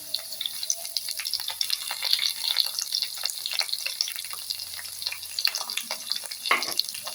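Large-cut onion pieces tipped into a pan of deep-fried potatoes, giving a bright, crackling sizzle with scattered pops and a brief burst near the end, close and steady with no talk.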